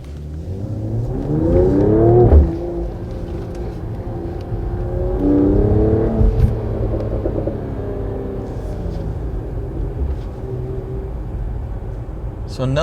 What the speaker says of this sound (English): So now we are driving in the city center in night.